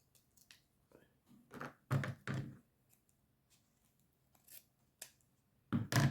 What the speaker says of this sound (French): Je vais pas mettre cette partie-là. Je vais la couper.